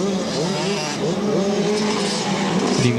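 High-revving little 85cc racing motorbikes at a solo beach race drone in a steady, wasp-like whine, several engines layered together at a moderate distance.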